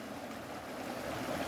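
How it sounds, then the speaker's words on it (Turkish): A creek swollen with snowmelt rushes in a steady, soft, continuous gurgle and hiss, heard from a short distance with no voices. "Kar suları akıyor şu anda"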